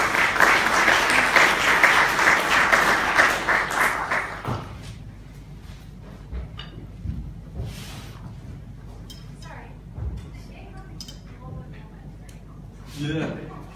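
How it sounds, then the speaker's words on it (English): A science-centre audience at a water-crisis hackathon applauds a speaker; loud, dense clapping lasts about four seconds, then stops abruptly, leaving quiet room noise and a few scattered knocks and rustles. "could you give Joel a quick round of applause?"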